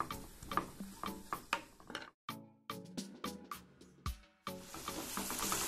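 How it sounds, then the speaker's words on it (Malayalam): Sliced onions sautéing in coconut oil in a pan over a low flame, steady stirring taps and scrapes of a spoon against the pan in an irregular rhythm over a soft sizzle, close with no talking. "ഉള്ളി മുറിച്ചിട്ടത് നന്നായി ഇളക്കുക. ലോ ഫ്ലെയിമിലിട്ടിട്ടാണ് ഞാൻ വഴറ്റുന്നത്."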